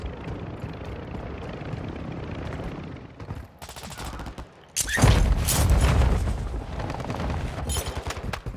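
A helicopter in a military shooter video game gives a steady, loud rotor drone, overlaid with bursts of gunfire that swell sharply about halfway through, with no talking.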